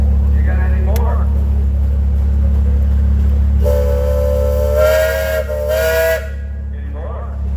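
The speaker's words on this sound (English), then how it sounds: "You got a whistle." A steam engine whistle blows at a steam engine and tractor show parade, a loud, tonal sustained blast over a heavy rumbling drone, with a softer whistle tone near the start and end.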